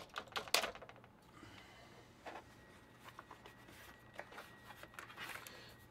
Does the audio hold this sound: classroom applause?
no